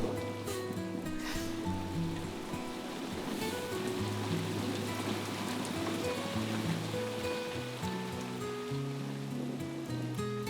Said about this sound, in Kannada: ಈ ಮಳೆ ವಾತಾವರಣ ಎಷ್ಟು ಚೆನ್ನಾಗಿದೆ ಅಲ್ವಾ?